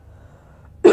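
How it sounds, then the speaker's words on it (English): A single short, loud cough bursts out at the end after near silence, close to the microphone. "You guys know I don't like to cough on video"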